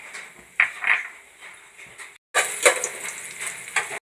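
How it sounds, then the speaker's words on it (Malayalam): Cashews and raisins fry in hot ghee for a semiya biryani. Soft sizzling is broken by a few sharp stirring clicks and a louder burst of crackle after a brief pause, close and without speech. "ചൂടായിട്ടുണ്ട് അണ്ടിപ്പരിപ്പ് മുന്തിരി വറുത്തെടുക്കാം"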